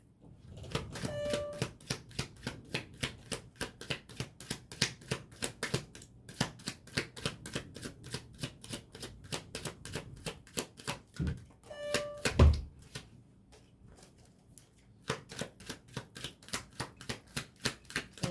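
Tarot cards are shuffled and drawn during a card reading, producing long runs of quick, crisp clicking and flicking with a brief pause and a soft thump partway through.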